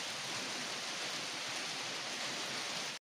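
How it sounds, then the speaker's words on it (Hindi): Heavy rain pours steadily in a dense, even roar that stays constant throughout, close and loud, with no voices. "बहुत जोरों का बारिश हो रहा है"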